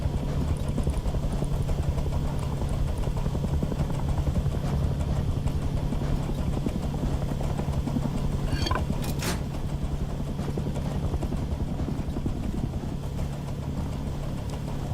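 A patrol helicopter in the game Rust drones steadily at night with a continuous low rotor thrum, fairly loud and unbroken, with a brief sharp sound partway through.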